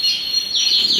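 A male carrier Satinet canary chirps in a short, bright burst of high sweeping notes, close and loud, with no one talking.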